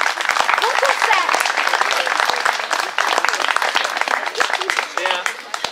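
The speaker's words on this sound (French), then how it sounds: "Et on vous applaudit très chaleureusement." Dense, warm applause from a concert audience for an orchestra, continuous and loud throughout with many overlapping claps and some crowd voices mixed in.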